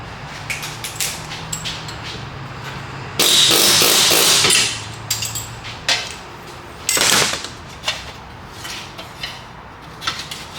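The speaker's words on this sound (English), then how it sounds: "So I had to straighten out the plate a little bit" A hammer pounds a steel plate straight during a Ford Explorer wheel bearing job. Loud, close, ringing metallic strikes land in scattered bursts, some as quick clusters of blows and others as single hits, with short pauses between.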